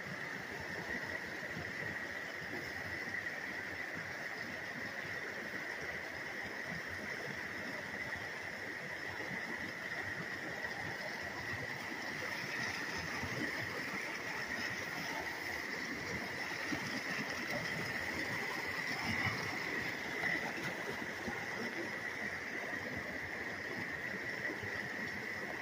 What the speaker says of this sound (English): this is the South Fork of the West Dolores River